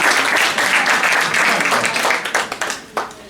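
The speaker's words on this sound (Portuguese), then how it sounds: "Uma salva de palmas aqui para a Mónica." A lecture audience bursts into loud, dense applause for a woman named Mónica, sustained clapping that thins out into a few scattered final claps near the end.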